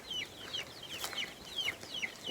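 Chickens and chicks in a henhouse cluck and peep in short repeated calls, close and moderately loud, with no voices over them.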